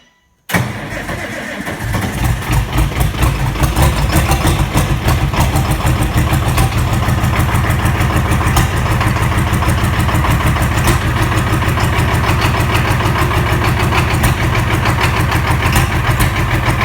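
IH Farmall 560 tractor engine cranking, catching and then idling loudly while warming up, a close, steady, rapid chugging rumble that continues alone for about sixteen seconds.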